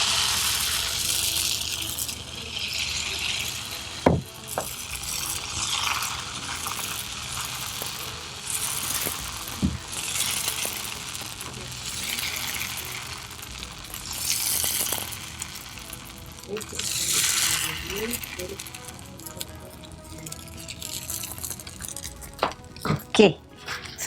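Batter for Madurai kari dosa pours onto a hot oiled pan, giving a hissing sizzle with occasional metallic clinks of a ladle, as a voice talks nearby.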